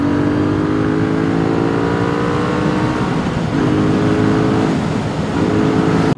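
MBP C1002V one-litre V2 motorcycle engine revving hard, a loud, close, continuous engine roar with pitch rising and falling through several pulls, no talking.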